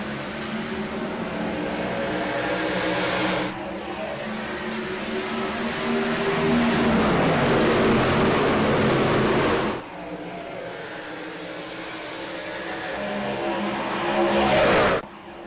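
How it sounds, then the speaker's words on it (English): Race cars in a video game start a race at Kansas Speedway, with a loud, sustained roar of many engines that swells and drops as the field accelerates, plus brief tire noise and no voices. "There's the call, and we're racing from Kansas Speedway"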